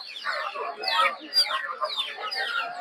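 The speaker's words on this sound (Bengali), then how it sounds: "দেখতে পাচ্ছেন ছোট ছোট দেশি মুরগির বাচ্চা।" Small native (deshi) chicks and chickens at a village poultry market in Narsingdi cluck and cheep continuously and close by, with overlapping high chirps and calls over a busy crowd murmur.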